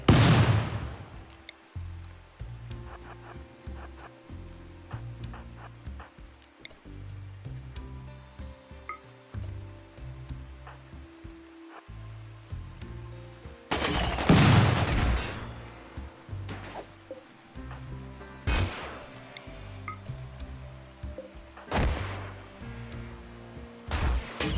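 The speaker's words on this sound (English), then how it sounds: "Carpet bomb my way in." Carpet-bombing explosions in RimWorld: several sharp, loud blasts and crackling bursts break over a quieter, steady backdrop of low game tones, with a cluster of impacts in the middle stretch.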